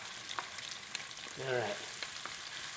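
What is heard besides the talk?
onion frying in olive oil and butter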